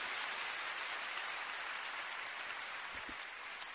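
A crowd gives sustained applause in memory of an engineer at an event with Beppe Grillo. The clapping forms a continuous, even hiss like rain, faint and distant, with no voices over it.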